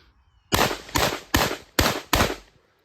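Five loud, sharp blasts from a Mossberg 930 Tactical shotgun fired into a dirt berm, spaced roughly a third to half a second apart, each followed by a brief outdoor echo, with no talking.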